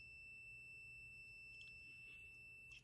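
A continuity tester checking a fuse from a 1978 micro television sounds a continuous high electronic beep tone, faint and unbroken, with a quiet low hum beneath it.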